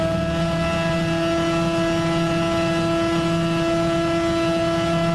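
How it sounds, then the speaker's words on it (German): A car engine in the Gran Turismo 6 racing game strains near the rev limiter, giving a steady, loud, unbroken drone with strong harmonic tones that holds level throughout, with no talking. "Das hört sich gar nicht gesund an für den Motor."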